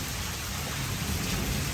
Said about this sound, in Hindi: मौसम बढ़िया हो रहा आज, बारिश खतरनाक वाली हो रही।